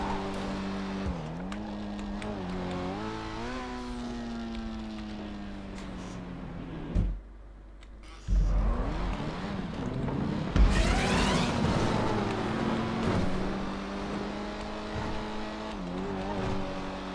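A game car in GTA 5 racing through an impossible parkour stunt course, its engine droning and revving in rising and falling tones with a brief silent gap, slipping and struggling to climb, heard under an excited voice.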